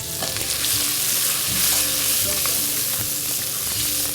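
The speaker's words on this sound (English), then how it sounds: "Saute the onions for about 3 to 4 minutes." Sliced onions sauté in a hot pan with a bright, steady sizzle, broken by repeated scraping and stirring knocks from a utensil, close and loud.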